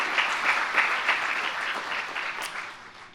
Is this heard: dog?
no